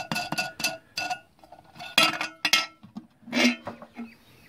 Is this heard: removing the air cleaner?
yes